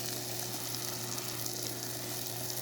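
Egg batter sizzling steadily in a chaffle maker, a constant dense crackle and hiss heard close up with no talking.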